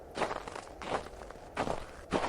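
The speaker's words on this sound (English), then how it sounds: "coming up from behind, you hear footsteps in the snow." Footsteps crunch through snow in a tabletop game scene, four slow, evenly spaced steps close by, each a soft gritty crunch, with no talk over them.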